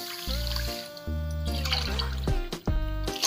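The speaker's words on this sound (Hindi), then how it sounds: "अब हम इसमें 2 गिलास पानी डाल देते हैं" Water pours into a pot for sugar syrup in close, splashy bursts with brief pauses, like glassfuls tipped in one after another.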